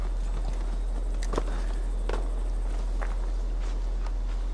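A wolf mount ridden in Assassin's Creed Valhalla, its footfalls giving a soft, evenly paced clip-clop over a constant low game hum with steady background noise, with no talking.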